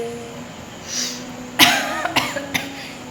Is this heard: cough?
yes